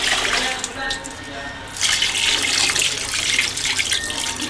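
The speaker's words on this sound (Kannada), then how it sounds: "ನೀರು ಹಾಕಿದ್ದೀನಿ." Water pours and splashes into a cooking pot for chicken, a rushing hiss that briefly drops off and then resumes strongly, close to the microphone.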